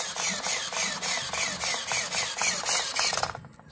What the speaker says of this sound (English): plenty of power to turn the servo